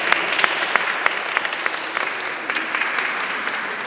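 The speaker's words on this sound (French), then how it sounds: "Donc, on peut applaudir Tyler et ses parents." Guests applauding at a baptism ceremony, a continuous crisp patter of many hands clapping at a steady level with sharper individual claps standing out, moderately near and without talk.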